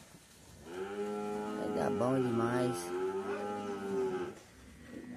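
Cattle being loaded onto a truck give a long, loud moo, followed by a second shorter low call. Someone talks over the animals close by.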